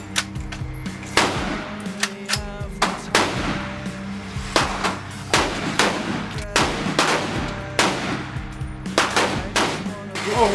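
Gunshots from a short barrel rifle chambered in 7.62x39 at a shooting range, a long string of loud, sharp cracks fired at an uneven pace, some in quick pairs, with faint voices between shots.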